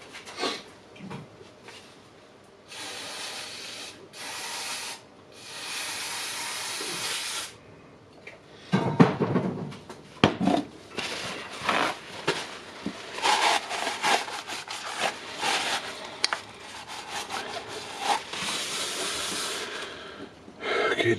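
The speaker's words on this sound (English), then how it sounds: "I will wash it with a brake cleaner" Brake cleaner is sprayed onto the cylinder of a Dewalt pneumatic nailer during servicing, producing several hissing aerosol bursts of varying length, close by, mixed with handling clatter.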